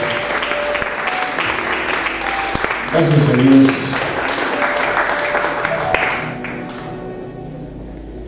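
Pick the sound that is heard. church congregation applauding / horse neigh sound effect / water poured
church congregation applauding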